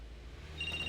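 A phone in a role-play driving game starts ringing near the end, a thin electronic ring tone rising over a low rumbling engine hum, brief and fairly quiet.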